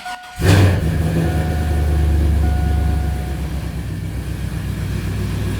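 A cammed Chevrolet Silverado shop truck engine barks loudly to life, then settles into a deep, lumpy, choppy idle that rumbles steadily and close.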